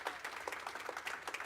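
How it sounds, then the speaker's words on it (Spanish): A church congregation claps for the Lord, a brief spell of quiet, rapid, overlapping applause heard from a distance with no voices over it. "Si lo crees, dale ese aplauso fuerte al Señor."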